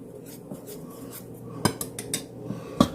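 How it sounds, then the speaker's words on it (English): A spatula stirs flour, salt and instant yeast together in a bowl, making a few light scrapes and sharp clinks against the bowl over a low, steady background. "Give that a quick stir."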